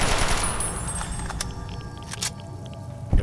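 Weapon gunfire in Fallout: New Vegas, a dense rapid burst of shots at the start that thins into a few sharp cracks and a closing thump, fairly loud over a busy game background.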